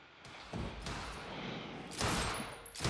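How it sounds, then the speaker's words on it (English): Gunfire from the video game Quantum Break: a few loud bursts of shots in the middle distance, one around half a second in and a heavier one near two seconds, over a steady background rumble. "Oh, that's gunfire."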